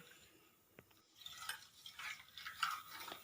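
Lemon being stirred into water for deep-cleaning a fridge: faint swishing and light clinks of a utensil against the container, soft and close, with no voices.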